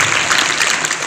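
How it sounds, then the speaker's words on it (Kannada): A crowd at a puja programme in Keroor village, Chadachan taluk, applauds a revered Kedar Jagadguru with a brief burst of dense, loud clapping. "ದೂರಾಗಿ ಚಪ್ಪಾಳೆ ಕಟ್ಟುವುದರ ಮುಖಾಂತರವಾಗಿ ಕರುಣ ಸಮರ್ಪಣೆ ಮಾಡೋಣ"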